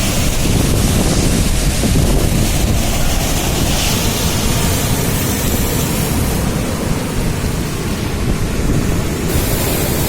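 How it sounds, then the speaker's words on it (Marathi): Strong ocean waves at Nandgaon beach give a loud, constant surf roar mixed with heavy wind buffeting the microphone, filling the whole stretch without a break or any voices. "जोऱ्यात लाट आलेली आहे"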